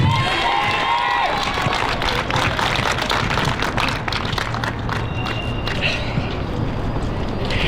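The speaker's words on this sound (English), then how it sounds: "you've got to give these guys a round of applause" A crowd at a Justice for Rhys gathering gives the speakers a round of applause, mixed clapping and cheering with scattered shouts and movement, busy and sustained throughout.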